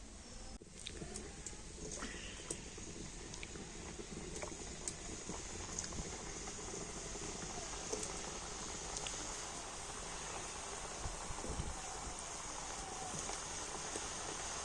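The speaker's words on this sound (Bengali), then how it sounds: "তো তেলটাকে ভালো মতো গরম করে নিয়েছি। আর এবার আমি তেলের মধ্যে পিঠেগুলো দিয়ে দেব।" Date-jaggery pithe sizzle in hot oil with a soft, constant crackle and scattered bubbling pops, quiet and close by, with no talking.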